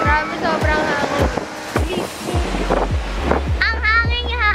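Strong wind outside an airport buffets the microphone in loud gusts while people talk close by.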